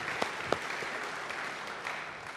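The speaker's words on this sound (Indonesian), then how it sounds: "Beri tepuk tangan yang baik bagi dia" A church congregation claps during a sermon, a steady moderate patter of many hands heard at some distance with a few sharper individual claps standing out.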